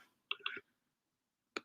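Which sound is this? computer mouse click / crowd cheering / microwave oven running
computer mouse click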